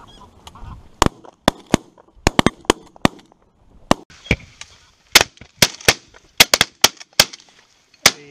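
Shotguns fire repeatedly during a goose hunt in Sweden, with about twenty sharp, loud reports in irregular bursts and clusters, some nearly overlapping, over a faint outdoor background.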